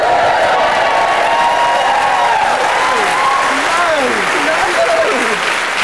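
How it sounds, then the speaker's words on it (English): Studio audience applauding loudly and continuously on a Saturday-night game show, a dense roar of clapping and cheering with a presenter's voice talking over it. "Don't applaud."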